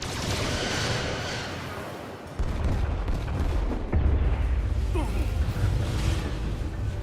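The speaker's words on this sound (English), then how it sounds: "Firing torpedoes." A starship fires torpedoes in the video game Star Trek: Resurgence, with heavy booming launches and whooshing blasts layered over a dense, continuous roar of space-combat noise.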